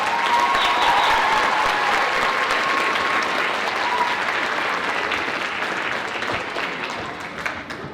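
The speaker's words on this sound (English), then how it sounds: "Can we hear a big round of applause for them?" A school concert audience gives a beginning middle-school band a big round of applause, loud, dense clapping close by that tapers slightly toward the end.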